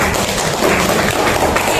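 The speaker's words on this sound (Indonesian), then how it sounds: "Tepuk tangan dulu." A classroom group claps for a student at a teacher's prompt, a short dense burst of many hands applauding together, close and fairly loud for under two seconds.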